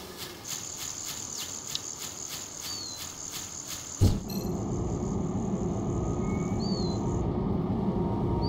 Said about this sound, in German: Da sind Bienen